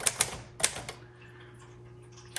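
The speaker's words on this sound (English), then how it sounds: "Amazing typewriter." A 1941 Royal Quiet Deluxe typewriter in brown crinkle finish is typed on close by: a handful of sharp keystrikes in two quick bursts, then a ringing mechanical decay and one more strike at the end.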